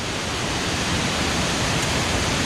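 Steady, dense roar of a waterfall beside a bridge on a jungle climb in Thailand, a constant broadband rush of falling water close by with no pauses or voices.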